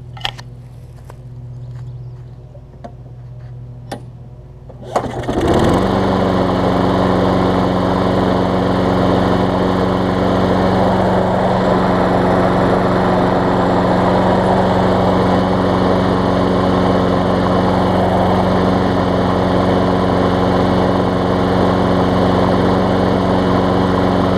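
Craftsman Big Wheel lawn mower with a small engine starting on the first pull after a few faint clicks, then running at a steady, loud, close drone.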